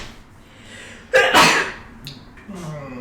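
A single sharp human sneeze bursts out close by during a tabletop role-playing game session, followed by a short quieter breathy sound.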